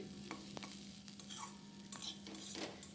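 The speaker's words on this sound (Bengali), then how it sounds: "ধনে পাতা কুচি দিয়ে ভালো করে নেড়ে চেড়ে নিচ্ছি" Spring onion stalks and chopped coriander are stirred in a hot pan, giving soft sizzling under a handful of light scraping strokes, quiet and close with no voices.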